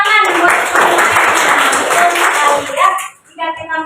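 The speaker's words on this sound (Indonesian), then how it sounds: "Tepuk tangan buat" A classroom group applauds students Adi and Fauzia with dense, steady clapping. Children's voices rise through it before the clapping fades and a voice continues.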